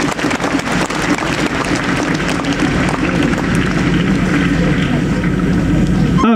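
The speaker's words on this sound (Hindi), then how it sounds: "जोर से सबकी ताली बजाएंगे।" A congregation at a church ceremony for a bishop's crozier installation claps in sustained, dense applause that fills the space, loud and continuous throughout before cutting off abruptly.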